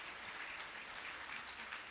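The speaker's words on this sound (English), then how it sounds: "one giant round of applause" Steady applause from a sizable crowd, dense continuous clapping that fills the whole stretch without voices.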